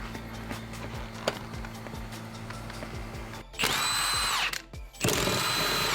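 A power tool whirs as it loosens T50 seat bolts on a BMW F30 during a seat retrofit, steady mechanical running that bursts into two loud, high-pitched whines near the end, close by with no talking.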